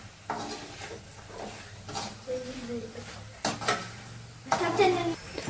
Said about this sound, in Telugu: సో అన్నీ వేసుకున్న తర్వాత ఒకసారి మిక్స్ చేయండి.